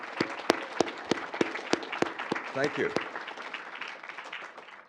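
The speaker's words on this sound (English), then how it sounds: "So can we please give them a round of applause?" Audience applause at an ecology and evolutionary biology conference opening, sharp individual claps spaced out and thinning over several seconds, with a voice speaking briefly during the clapping.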